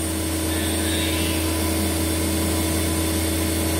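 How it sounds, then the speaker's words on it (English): Spindle of a 2014 Haas VF-6SS CNC vertical mill running steadily, a constant smooth hum and whine holding at one pitch, fairly quiet and close, with no talk over it. "As you can hear, the spindle is pretty good."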